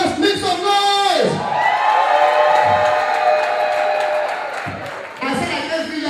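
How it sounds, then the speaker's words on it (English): An audience at the Ogbokor Ikwere gala night cheers and whoops loudly and continuously, a steady roar of crowd noise with scattered shouts that stays dense throughout. "let them scream and clap when I call them"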